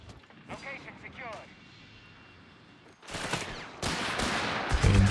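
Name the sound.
MG42 machine gun firing burst in video game Company of Heroes 3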